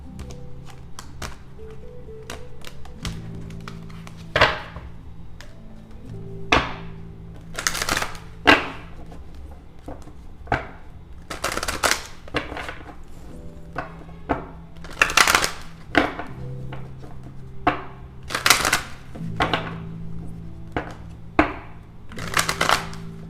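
Tarot cards are shuffled by hand in repeated riffles and soft slaps, with crisp bursts spaced every second or two over a quiet room, close and clear with no talking.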